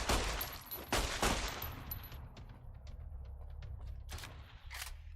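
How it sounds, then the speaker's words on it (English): Gunfire in the Fallout: New Vegas video game, several sharp shots in quick succession early on, then sparser isolated reports and mechanical clicks at moderate loudness. "Man, I suck at shooting."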